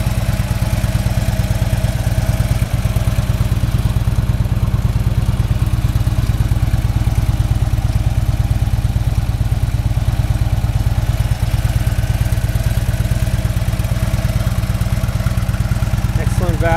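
2011 Harley-Davidson Road Glide Ultra with a 103 cubic inch engine idling, a steady deep low throb that stays loud and even throughout, with a voice talking over it.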